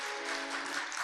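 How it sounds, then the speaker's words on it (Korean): Congregation applause at a Sunday church worship service, a dense, steady wash of many hands clapping throughout, with no voices over it. "우리 그 하나님께 영광의 박수 한 번 더 올려드리겠습니다."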